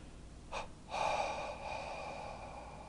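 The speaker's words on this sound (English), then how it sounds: "And just exhale." A single breathing sequence during meditation practice, made up of a short sharp intake followed by a longer, soft, airy exhale through the nose and mouth, close and quiet, with no speech.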